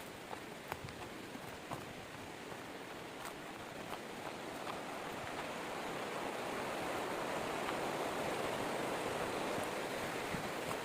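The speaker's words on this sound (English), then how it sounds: "The waterfall over there." Albas Falls in Canada pours as a steady, broad rush of water, a dense wash of noise that holds constant and swells slightly louder toward the end, with no voices present.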